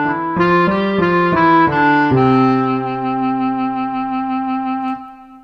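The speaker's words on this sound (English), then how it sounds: "That was the folk clarinet layered with the natural piano." A reedy folk clarinet tone layered with natural piano on a BK-7m electronic keyboard plays a short rising phrase of notes, then holds a long sustained chord that fades away.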